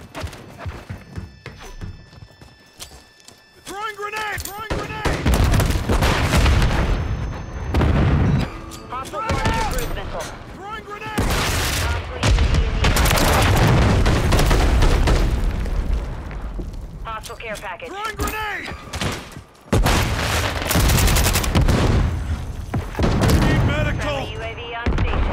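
Gunfire in a video game comes as repeated loud, close bursts of booming, thumping shots in heavy clusters across most of the stretch, mixed with dense game noise.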